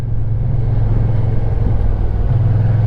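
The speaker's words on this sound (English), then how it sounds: "A car is following me into this area." Low, steady engine drone on the road from a Kymco AK 550 maxi-scooter with a car following close behind, a constant rumbling hum without clear gear changes.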